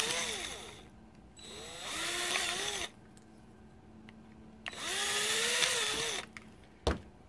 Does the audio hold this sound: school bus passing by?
no